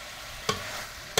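Chicken frying for Kolhapuri tambda rassa on a wood-fired chulha gives a steady close hiss and sizzle, broken by two sharp clicks like a spoon hitting the pan.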